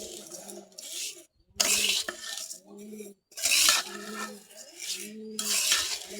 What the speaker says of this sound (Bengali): এইভাবে খালি আমি অনবরত নাড়তে থাকবো, নাহলে কিন্তু পুড়ে যাবে।